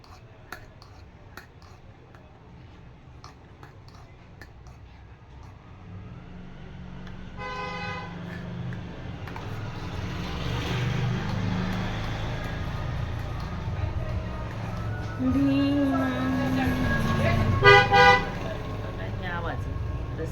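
Busy road traffic with a steady rumble that slowly grows louder. Car horns toot now and then, with a clear honk about a third of the way in and a louder cluster near the end. Voices are heard now and then.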